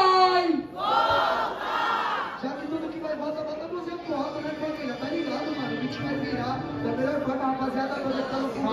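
A crowd at a student rap battle in Guarulhos cheers and shouts loudly and continuously, with a host's voice riding over the roar.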